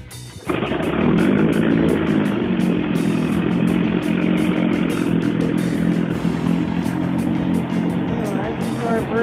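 A 1971 Johnson 25hp outboard motor with a rebuilt ignition fires up abruptly and runs steadily at a loud, rattling idle close by, with a voice heard over the engine.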